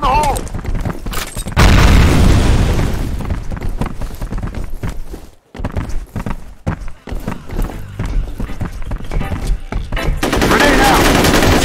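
F.E.A.R. Combat firefight with a loud grenade blast followed by rapid, close bursts of automatic gunfire and scattered shots, dense and continuous with a brief lull midway, a voice heard over the noise.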